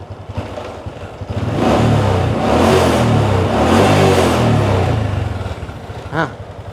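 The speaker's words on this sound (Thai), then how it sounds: "เดี๋ยวลองเบิ้ลกันสักนิดนึงนะครับ คันเร่งบิดติดมือนะ" A used 2010 Honda Wave 125s motorcycle with its stock exhaust idles nearby, then is revved hard into a loud, sustained roar before dropping back to a rough idle with a short blip.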